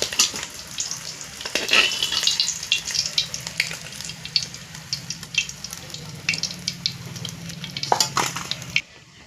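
Pieces of katla fish fry in hot oil, a continuous close sizzle broken by irregular crackles, spatters and occasional clinks of a utensil, with a brief louder burst near the end.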